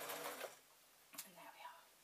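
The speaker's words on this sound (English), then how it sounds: "I can feel my sewing machine slipping" A sewing machine stitches toddler shorts with elastic in short quiet bursts of mechanical whirring, separated by pauses, with faint background noise around it.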